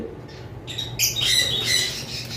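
Albino lovebirds squawk in a cage, giving a cluster of harsh, close calls that start faintly and then grow into overlapping, loud squawks over a low background hum.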